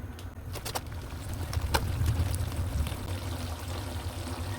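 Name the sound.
water poured into cooking tomatoes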